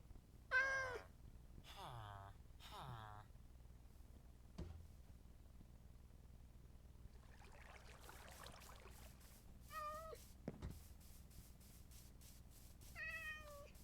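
Several meows from a cat in Minecraft, spaced apart over faint quiet background, with a few soft thumps between them.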